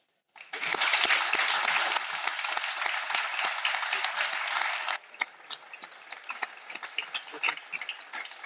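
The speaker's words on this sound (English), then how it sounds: "Keep that applause going, Johnny Ball." Audience applause at the At Ease Festival, a sustained burst of many hands clapping that drops to scattered, thinner claps midway.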